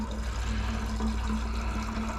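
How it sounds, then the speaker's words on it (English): Dark gold recovery solution from high-grade pins is poured off, giving a continuous close liquid gush and trickle with a steady low hum underneath, without talk. "I'm just pouring off, even though it's a dark solution, it's fairly see-through at the tip here"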